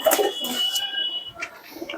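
Naptha pigeons kept by a longtime breeder coo in brief, soft bursts close by, mixed with faint chirps and outdoor background sounds.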